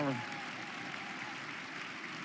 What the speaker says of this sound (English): For that round of applause